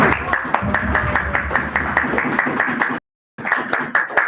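Attendees at a Toastmasters meeting clap for a speaker, a loud, brisk, close run of hand claps that cuts out abruptly for a moment and then resumes.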